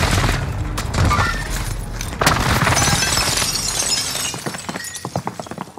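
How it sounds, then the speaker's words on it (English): An airstrike detonates in Call of Duty: Modern Warfare, a sustained roar of blasts and shattering debris with a sharp impact partway through, then crackling rumble fading out. "Precision airstrike missed."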